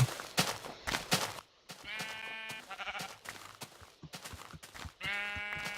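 Sheep in the Minecraft video game bleat repeatedly in short wavering calls, several overlapping, mixed with game footstep and block sounds, fairly close and clear with no talking.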